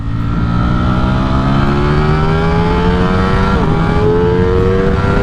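Ducati Streetfighter V4 motorcycle accelerating hard in second gear in sport mode through traffic, its loud, continuous engine note rising steadily in pitch, with a brief dip near the end before the climb resumes.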